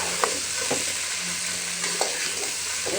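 Onions fry in a pan with a steady loud sizzle, broken by a few sharp stirring scrapes, close by and without talk.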